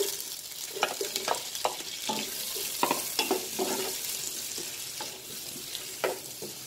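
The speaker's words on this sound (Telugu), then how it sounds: "దీంట్లోనే onion pieces and green chilli వేసేసుకుందాం" Onion pieces and green chillies frying in hot oil for Hyderabadi chicken dum biryani, a soft steady sizzle broken by sharper crackles and stirring clinks, close by and fairly quiet, no talking.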